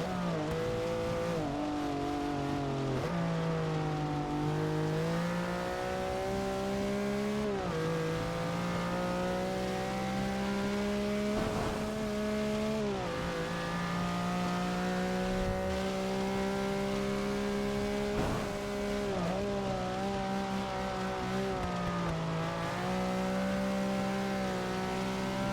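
A race car in the Forza Motorsport 6 video game drones continuously at high revs, its engine pitch climbing and dropping through gear changes over a long stretch, with tire noise on a wet track underneath.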